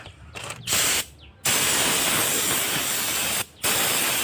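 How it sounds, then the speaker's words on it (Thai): Spray gun blasting gloss lacquer paint in a car engine bay, set to a fine mist, with long loud hissing bursts separated by short pauses as the trigger releases. "มาพ่น สี เคลือบเงากันเลย"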